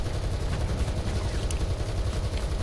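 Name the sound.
tank machine gun stuck firing in the video game War Thunder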